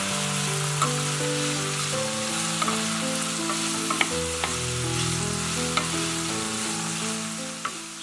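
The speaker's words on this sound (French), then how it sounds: "j'ai ajouté la poitrine fumée taillée en lardons et j'ai laissé mitonner" Smoked pork belly lardons simmer gently with mushrooms in a pan, producing a steady close sizzle and bubbling with occasional small pops and clicks and no talking.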